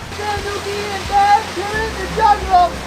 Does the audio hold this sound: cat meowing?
no